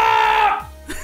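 A man gives a short, strained, wailing scream on request, held loud for about half a second and then trailing off into a breathy groan.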